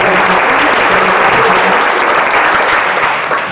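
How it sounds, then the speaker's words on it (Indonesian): Audience applause at an official regency gathering in Maybrat, Papua, with children about to perform a spinning-top demo. Dense, steady clapping from many hands fills the room loudly and continuously, tapering slightly at the end. "Mari kita berikan aplaus sekalian"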